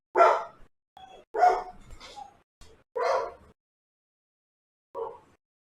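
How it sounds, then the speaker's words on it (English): A dog barks indoors in a quiet room: five loud, distinct barks spaced about a second apart, with a softer yip between them and a last fainter bark after a pause. "Once again, my dog is barking."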